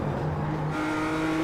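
A BMW M2 race car accelerates on track, its engine note rising in a loud, steady drone, with a gear change midway that shifts the pitch, heard from close by.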